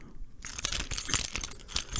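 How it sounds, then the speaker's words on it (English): A bunch of car keys for a Tesla jangling and clinking, a busy metallic rattle that starts abruptly and keeps shaking close up for over a second. "Those are the keys."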